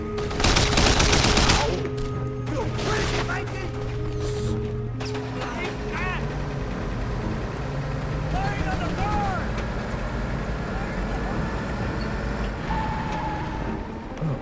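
Gunfire in the video game Mercenaries 2: World in Flames, a loud burst of rapid shots at the start, then scattered shots and game effects continuing under a steady background of vehicle and ambient noise.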